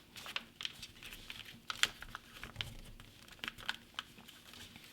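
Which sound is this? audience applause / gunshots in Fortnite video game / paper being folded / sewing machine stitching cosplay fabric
paper being folded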